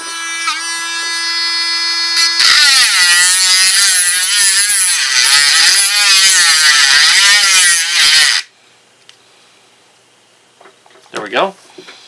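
A Bauer rotary tool sold by Harbor Freight whines steadily while reaming, running loud and close for several seconds before cutting off abruptly; brief faint handling sounds follow.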